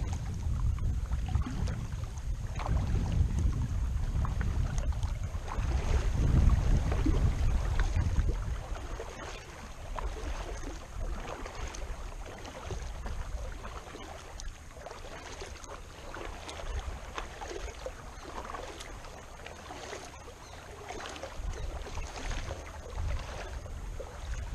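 Breezy afternoon wind on Prettyboy Reservoir heard from a kayak, a steady rushing wind noise with low buffeting at the start, faint water lapping against the hull and occasional light knocks, with no talking.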